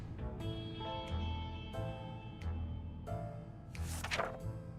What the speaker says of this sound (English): The last thing we expected was a giant explosion.